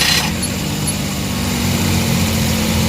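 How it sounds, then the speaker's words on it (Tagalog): A Suzuki K6A engine in a DA64/DA63 mini van, suffering a vibration issue, running at a steady low idle with a constant droning hum after a brief higher burst at the start. "i-on natin ng isa natin makina"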